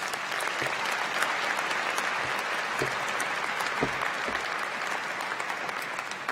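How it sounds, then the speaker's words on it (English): A commencement ceremony audience for a College of Pharmacy and Health Sciences class applauds, dense, even clapping from a large crowd that holds steady throughout with no talking. "Let's give them a big round of applause."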